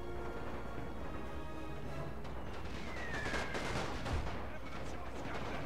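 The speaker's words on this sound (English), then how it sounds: "You might have a chance to start shooting." Musket volleys and battlefield gunfire in Napoleon: Total War with a Great War mod, a dense rumbling crackle of scattered shots under steady loud battle ambience, with faint voices mixed in.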